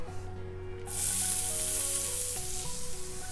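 Red onion hits a hot pan for a tuna piccata pan sauce, bursting into a loud, steady sizzle after a short quiet start, with background music playing throughout.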